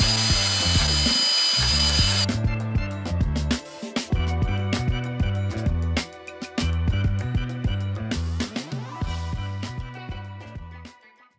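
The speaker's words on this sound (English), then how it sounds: "let's go ahead and start drilling some holes and filing this down to make this fit." A power drill runs loudly and close, its whine shifting as it bites, with rhythmic pulsing and sharp knocks throughout.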